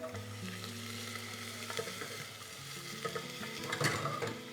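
Garlic and onion sautéing in a pan, a steady sizzle with stirring scrapes and clinks that grow busier toward the end, close and with no talk.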